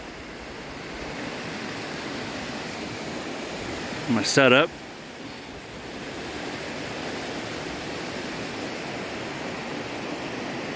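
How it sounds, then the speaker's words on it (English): Steady broadband rush of water flowing somewhere below an outdoor spot, continuous and even throughout, with a brief voice speaking partway through. "Water down below."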